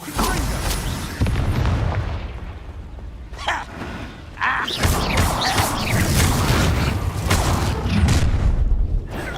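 Confringo blasting spell explosions in the Hogwarts Legacy video game, loud booming blasts and bursts of magical combat that run continuously over dense game sound.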